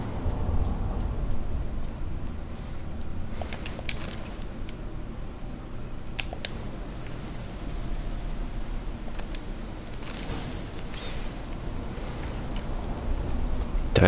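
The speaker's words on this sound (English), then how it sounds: "Ooh, it's raining." Rain falls in the video game The Witcher 3: Wild Hunt, a steady, dense patter of drops across the whole stretch with scattered sharper ticks, fairly loud and without talk.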